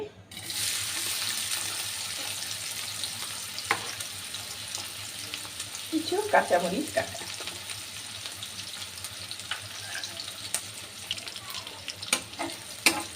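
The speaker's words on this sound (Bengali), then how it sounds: "পেঁয়াজগুলো ভাজা হয়ে গেছে" Chopped onions and green chilies frying in oil in a home kitchen pan, a steady sizzling hiss throughout with a few scraping stirs midway, while someone speaks briefly over it.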